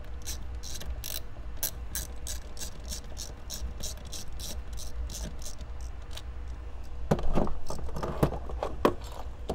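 A ratchet wrench backs out a 13 mm bolt during a subwoofer and amplifier install in a BMW 4 Series Gran Coupe (G22/G23/G26). Rapid, steady ratcheting clicks run throughout, close and clear, growing louder and busier near the end.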